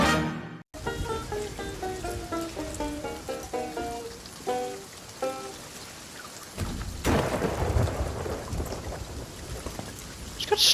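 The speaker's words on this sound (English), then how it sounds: "Just got struck by lightning." A thunder crack from a lightning strike in a video game, a sharp loud burst followed by rumbling and rain-like noise, after a run of stepped melodic tones early on.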